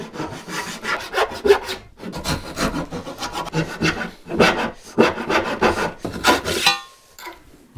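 Rhythmic rasping strokes of a hand saw cutting through wood, close up, in repeated bursts with brief pauses, ending in a short silence.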